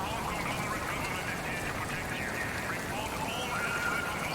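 Steady, even rain hisses without pause in the Born Punk game world, a dense unbroken wash with faint tonal ambience drifting over it.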